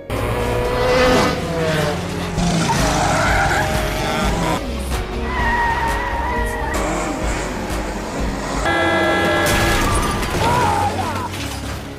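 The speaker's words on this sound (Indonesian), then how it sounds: "Dan tak lama setelahnya, mobil Denan ditabrak oleh sebuah truk" A race car skids with squealing tires in a film scene in which a car racing off the track is struck by a truck. Loud engine roar and tire squeal are layered with sharp bursts throughout, and faint voices sit beneath them.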